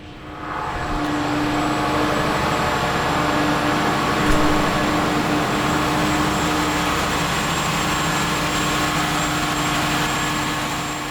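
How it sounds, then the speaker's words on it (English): Two Caterpillar engines run in the two-tiered engine room of the 236 ft superyacht AXIOMA, giving a loud, steady, close mechanical drone with a constant hum that does not change across the whole stretch. "Looking down at those two Caterpillar engines, seeing the workstation on the opposite bulkhead,"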